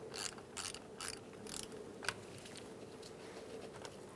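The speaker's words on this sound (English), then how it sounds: "Using an 8mm socket or wrench, you're going to disconnect your negative battery terminal." An 8mm socket wrench loosens the negative battery terminal on a 2000–2007 Ford Taurus, producing a steady run of rhythmic ratchet clicks, faint and close, over low background noise.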